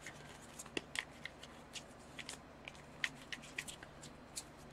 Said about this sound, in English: So just going to give these a quick shuffle.